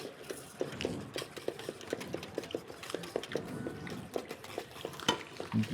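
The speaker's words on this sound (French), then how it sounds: "moi je verse mon mélange lait-crème sur mes jaunes blanchis avec le sucre et la faisselle." A boiling milk-cream mixture goes onto sugared yolks and soft cheese while a whisk stirs steadily in a bowl, making a rapid rhythmic series of light clicks and scrapes, fairly close.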